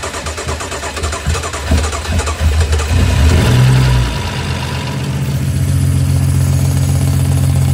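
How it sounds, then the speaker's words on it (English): A BMW N55 engine with forged internals fires up for the first time, a loud engine start and sharp revving climb that settles into a steady, close idle. "started the car, and we had oil pressure within 1 second of firing up the car"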